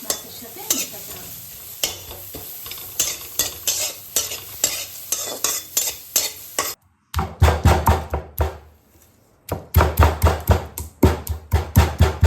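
Ingredients for a Hyderabadi-style mutton biryani dry-roast in an empty pan, with a spatula stirring and scraping in rapid rhythmic knocks. There is a short pause midway, then louder, firmer strokes.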